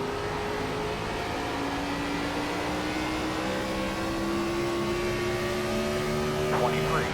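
Race car engine in a racing video game near full throttle down the front stretch, a steady droning tone that climbs slowly in pitch, continuous and fairly loud, with an announcer-like voice faintly underneath.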